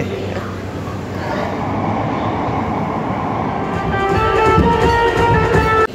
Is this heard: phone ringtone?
no